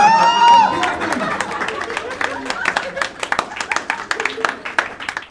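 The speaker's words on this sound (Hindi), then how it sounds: "let's have a huge round of applause for the gentleman sitting over there" A voice speaks briefly at first, then a stand-up comedy audience's clapping builds into brisk, sustained applause filling the room.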